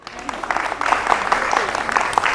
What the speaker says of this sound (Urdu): تالیاں میرے لیے